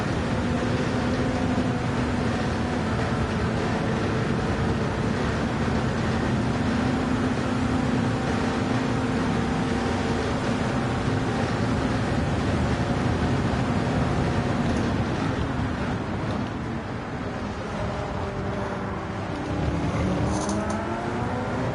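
Audi R18 race car engines in Gran Turismo 7 at Le Mans hold a steady sustained drone with tonal harmonics for over twenty seconds, the pitch sweeping and shifting near the end as revs change.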